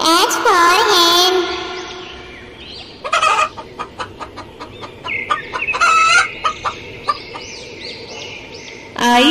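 A hen clucks and a rooster crows loudly up close, followed by a series of short, choppy clucks and squawks.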